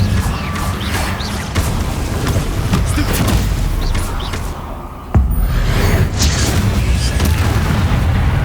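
Incendio fire spell cast in the Hogwarts Legacy video game: a loud, dense roaring rumble with crackling texture runs throughout, dipping briefly before a sharp booming burst that swells back to full strength, with no talking.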